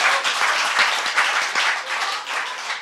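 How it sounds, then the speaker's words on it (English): Audience at a live show applauding, a dense, steady wash of many hands clapping close by for about three seconds with no talk over it. "Steffi, give her a big round of applause."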